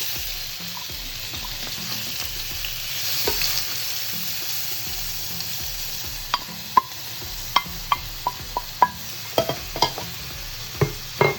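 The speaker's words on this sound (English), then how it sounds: "I'm going to cook this for about 10 minutes until they're nice and brown." Onions frying in hot oil for a Kenyan goat pilau, a steady close sizzle with occasional clicks and taps of stirring, no talking.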